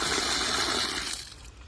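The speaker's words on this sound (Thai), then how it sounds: "ตรงนี้ก๊อกน้ำนะผมเดี๋ยวลองอเทสดูนะครับ" Water gushes steadily from a tap fed by a solar-powered pump system with a tall storage tank, a loud, close rushing flow that fades and thins toward the end.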